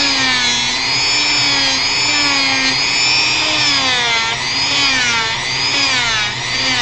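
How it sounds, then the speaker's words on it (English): A power tool sands wood while carving a Final Fantasy V model's platform front upper leg. It makes a loud, continuous, close whine whose pitch wavers slightly as the tool works the surface. "we're going to get our rough kind of, our heavy sanding done right now"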